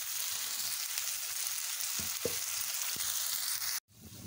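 Onion with a spoonful of garlic-ginger paste frying in a pan for a minced chicken dish, giving a steady close sizzle with faint stirring scrapes and a brief dip near the end.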